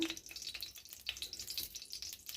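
Whole spices such as cinnamon, cloves and cardamom crackle and sizzle softly in melted ghee and oil, a steady close frying hiss with small pops for a couple of seconds, no voices.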